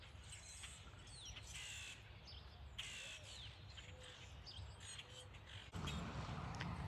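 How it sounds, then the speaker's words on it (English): A crow calling from high up in a garden gives a series of harsh caws spread across the clip, moderately distant, over a low background hum with a few other faint bird chirps. "Where is that bird? And what is that bird?"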